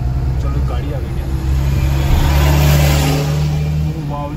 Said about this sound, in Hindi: तेज निकलता हुआ ट्रक